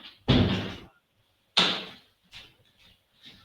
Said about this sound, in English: give me a second and I close the door because it's very noisy outside